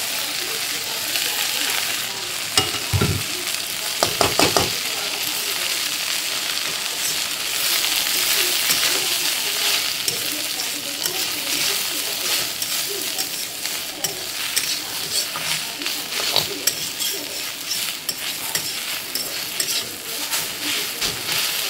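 Jute leaves (pat shak) with a little raw onion fry in a pan, giving a continuous close sizzle broken by repeated stirring scrapes and spatula clinks against the metal.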